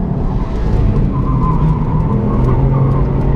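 Car driven hard on a track under throttle with its tires pushing into understeer, giving a loud, sustained engine drone with tire noise running steadily and close throughout.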